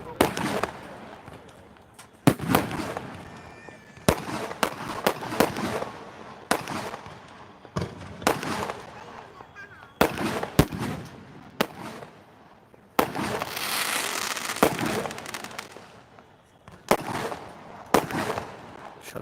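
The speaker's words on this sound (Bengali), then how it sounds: "আতশবাজির এই বিশাল আয়োজন সিলেট জেলা স্টেডিয়াম থেকে" Repeated fireworks bursts over Sylhet district stadium at a celebration, loud sharp bangs in irregular clusters with crackling fizz between them, some rapid volleys, and crowd noise underneath.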